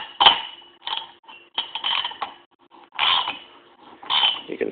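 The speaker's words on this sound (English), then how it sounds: "Run her in and it'll start to cut a new thread." A hand tap cutting a new spark plug thread into a chainsaw cylinder, heard as bursts of grinding, ratcheting metal scraping separated by short pauses, close and moderately loud.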